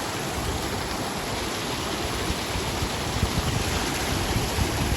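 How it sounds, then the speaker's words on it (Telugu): Water rushes at Penchupadu waterfall in a forest near Madanapalle, a loud, dense, continuous roar heard close by without any pause or voices. "నీళ్ళు మాత్రం సూపర్గా వస్తున్నాయి"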